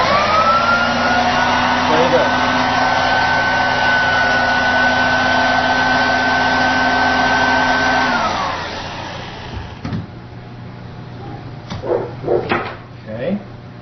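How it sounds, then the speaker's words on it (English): A vacuum cleaner runs steadily with a loud, constant motor whine and hum for about eight seconds, then its motor winds down and cuts off, leaving faint clicks and handling noises. "This is a vacuum cleaner, which has an extremely, extremely high current draw when it is first turned on."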